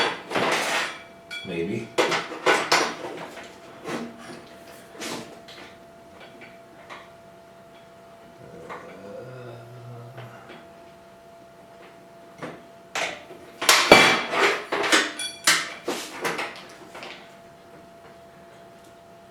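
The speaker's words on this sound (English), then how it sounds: "I'll just clamp this to the cart leg" Metal clanks, taps and scraping as a snow blower gearbox is clamped to a cart leg in a workshop, bursts of close clatter separated by quieter handling, with a brief spoken word.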